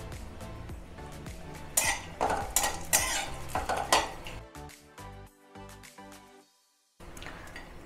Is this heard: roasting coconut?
yes